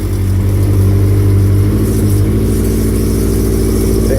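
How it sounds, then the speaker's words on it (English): A Honda CBX750 motorcycle engine runs steadily at idle after a cold start, loud and close through a very loud exhaust, with a deep, even throb and slight pitch changes. "The exhaust sounds absolutely horrendously loud."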